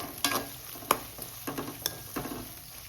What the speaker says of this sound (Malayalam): ഇതിലോട്ട് നമുക്ക് കരിവേപ്പില ഇടാം.